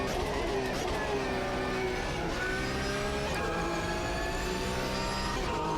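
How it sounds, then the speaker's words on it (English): A car driving cleanly along a straight during a handling analysis, a steady, loud engine drone with rising harmonic whine as it holds speed, continuous throughout with no speech. "I'm driving now quite clean, no problem because it's on a straight"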